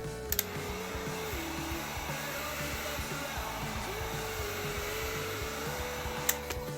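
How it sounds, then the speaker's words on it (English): A heat gun blows steadily while graphics are applied to a 2024 Yamaha YZ450F dirt bike, a constant airy whoosh with a humming motor tone that dips briefly, plus a few faint clicks near the start and end. "Just hit it with the heat gun, press it down again, and likely the second time it'll stick."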